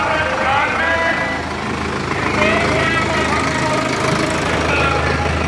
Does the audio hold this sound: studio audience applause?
no